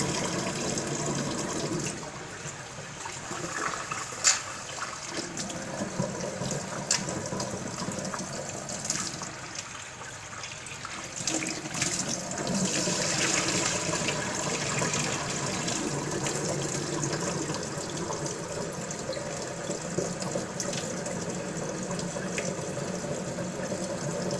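Tap water running steadily into a pot of rice being rinsed in a kitchen sink, a continuous close gushing and splashing with shifting swirls as the grains are stirred, no speech over it.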